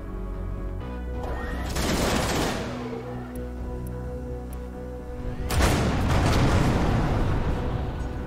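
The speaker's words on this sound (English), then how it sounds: "The explosion nearly effed us up." A heavy, rumbling explosion in the space shooter game Everspace 2 booms out, with crashing debris and a second loud blast swelling midway, dense and sustained.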